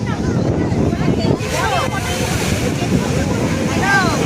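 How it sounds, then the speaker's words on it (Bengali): Big sea waves break on Digha beach at night, a steady, loud roar of surf with wind buffeting the microphone throughout. "দিনের দিঘার ঢেউ মারাত্মক রকমের ঢেউ আসছে"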